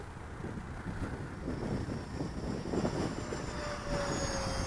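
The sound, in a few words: Freewing Stinger 64mm RC jet making a fast pass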